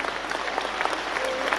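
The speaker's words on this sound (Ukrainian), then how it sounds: "Ваші оплески наймолодшій учасниці «Червоної рути» Анна" Studio audience of a Ukrainian morning TV show applauding a young singer, a dense, steady wash of clapping heard up close with no pauses.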